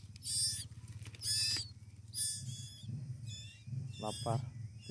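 High, shrill chirping calls from several young birds in bursts, close by, with low voices talking underneath throughout.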